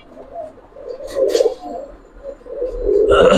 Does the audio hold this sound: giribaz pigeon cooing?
yes